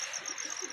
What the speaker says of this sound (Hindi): मुझे कि नासिर भाई आपके कबूतर बड़े अच्छे हैं।